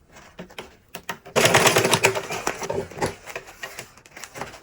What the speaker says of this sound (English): I'm going to, join it like this, and I'll sew it down